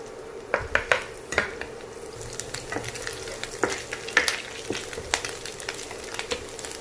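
Garlic sizzles in hot oil for chicken fried rice, with a steady frying hiss broken by sharp clinks and scrapes of a spoon against the pan, close and alone without speech.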